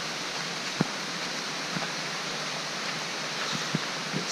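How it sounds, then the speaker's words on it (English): Heavy rain pouring down in a Thai national park forest near a waterfall, a constant broadband hiss with a few sharp drips and knocks breaking through. "about to get heavier and heavier, the rain"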